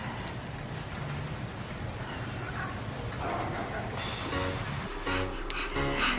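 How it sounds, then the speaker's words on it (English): Rain falling outside in a cold residential neighborhood, a continuous soft hiss of drops on surfaces, fairly faint, with a few brief clattering noises near the end. "it is raining in our neighborhood"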